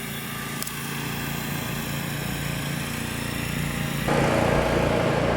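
A Walker mower and a mid-mount zero-turn lawn mower run side by side, giving a steady, loud engine drone that grows noticeably stronger partway through.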